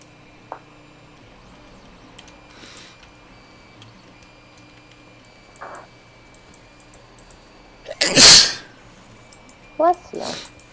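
A single loud, sharp sneeze close to the microphone partway through, standing out against quiet computer-game background sounds and faint clicks, followed by a couple of smaller noises.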